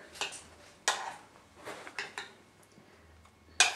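Poached plums being dished up onto a plate, with a few separate clinks and scrapes of a utensil against crockery spaced irregularly, close and fairly quiet, no talking.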